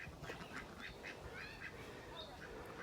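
Domestic ducks, a drake among them, quack in a backyard pen, a string of short nasal calls close by over steady outdoor background noise.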